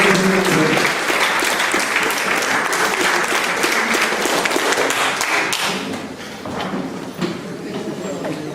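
Sustained applause from a conference audience after talks on women and the French Revolution, loud and dense for several seconds, then thinning and fading, with a few thumps and taps near the end.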